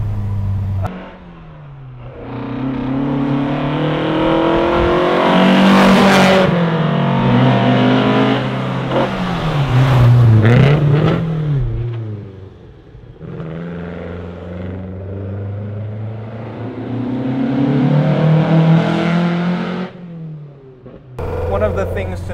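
A front-wheel drive rally car's engine revs hard while driving through first gear, rising and falling in buzzy, rasping pulls that come close and loud, dropping briefly between surges.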